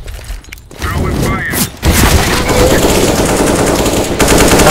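Rapid gunfire bursts from Counter-Strike: Global Offensive gameplay, loud and nearly continuous, with players talking over the shooting.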